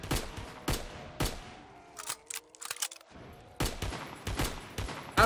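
Sharp single shots from a Type 5 rifle in Call of Duty Zombies, loud cracks spaced about half a second apart, a brief lull with mechanical clicks, then more shots.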